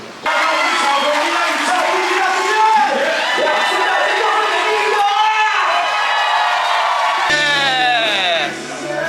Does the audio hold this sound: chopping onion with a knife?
no